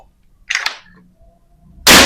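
A Daystate air rifle fires one sharp, loud, close shot near the end of a quiet stretch during an accuracy test, preceded by a brief softer burst of sound.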